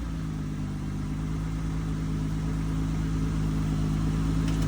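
A 2000 Acura MDX engine runs after a jump start, a steady close idle with a low, even hum throughout and no voices.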